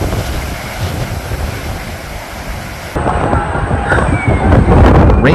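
Ocean surf roars during Typhoon Kathleen battering the UK, a loud continuous rush of waves and wind that grows heavier partway through, with gusts buffeting the microphone.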